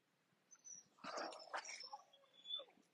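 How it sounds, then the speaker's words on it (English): A pet dog whimpers indoors, a few soft high whines and short nasal yips in quick bursts, fairly close in an otherwise quiet room. "I think my dog is hungry because I just took her outside, but she's bugging."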